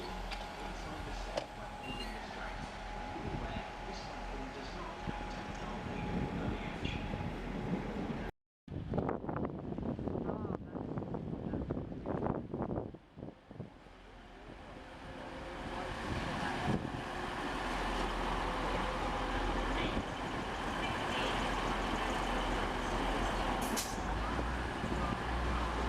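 A train pulls into a UK station on the Doncaster to Kings Cross line: a loud, steady rumble with wind buffeting, a brief cutout, then the noise swelling again and holding close.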